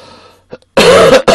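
A short, harsh cough from a man with a cold and painful chest, after a faint throat noise, then a second cough starting just after, loud and close.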